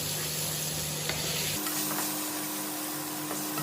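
Paneer cubes frying in a nonstick pan, a steady close sizzle with a few light scraping stirs; partway through the texture changes as the pieces are moved or lifted, and no one speaks.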